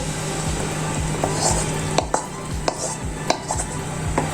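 Butter chicken with makhani gravy and garam masala being stirred in a pan, a spoon scraping and knocking against the metal in a steady repeated rhythm over a low background hum, close and moderately loud.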